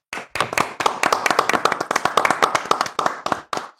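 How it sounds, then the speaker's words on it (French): Hands clap alone in a steady run of roughly twenty sharp, close claps, evenly spaced and fairly loud, with no talk over them. "Ça s'applaudit."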